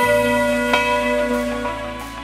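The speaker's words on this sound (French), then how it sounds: "Le gong des cloches de Notre-Dame de Paris résonne grâce à mes artisans." Church bells of Notre-Dame de Paris ring in a steady, resonant peal, with several sustained tones overlapping and repeated strikes adding fresh attacks as the hum lingers loud and close.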